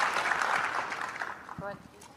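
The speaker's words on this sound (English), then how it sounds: "I think that deserves a pretty significant round of applause." An audience applauds at a talk, with dense clapping that tapers off. A voice begins speaking near the end.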